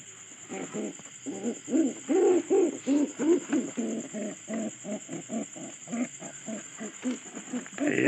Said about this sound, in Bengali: পায়রাটা একটু ডাকটা আপনাদের দেয়